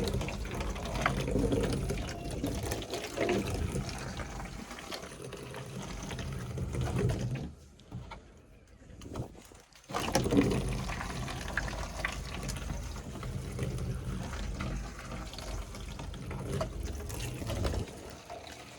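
Water is poured over a newly fitted lift-up window on a Kombi camper van as a leak test: a steady trickling splash runs for several seconds, pauses briefly, then resumes and continues loud and close.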